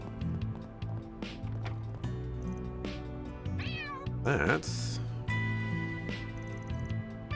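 Cats in Trails Through Daybreak meow repeatedly in varied, drawn-out calls with some rising and falling wails, close and clear over soft game background music, with a brief spoken word.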